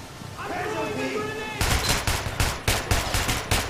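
Short gunfire bursts in Metro: Last Light, a quick series of sharp shots in clusters following a brief stretch of voice and ambience, loud and close.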